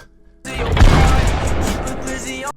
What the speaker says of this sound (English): drag in your godly spaz sound effect